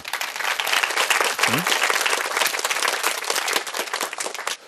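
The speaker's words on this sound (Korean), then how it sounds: "멋있으면 박수 좀 치고 그러세요" Audience at a Korean talk concert applauding, a dense burst of many hands clapping that holds steady for several seconds before cutting off, with a brief vocal sound early on.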